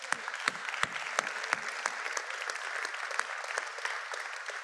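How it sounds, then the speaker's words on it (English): Round of applause from an evening charity event audience, a fairly quiet, steady patter of many hands with a few sharper near claps standing out, fading slightly at the end. "I'm gonna have to give y'all a round of applause again."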